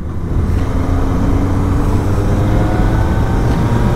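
A 2002 Honda CBR 954RR sport motorcycle riding on the road, its engine a steady loud drone with wind rush throughout, no talking.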